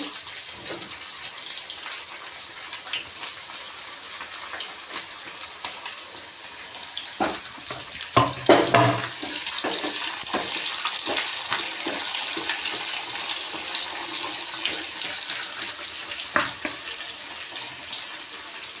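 Chopped onion, green chilies and curry leaves fry in hot oil in a pan for masala dosa filling, giving a steady, close hiss with a few brief clatters around the middle.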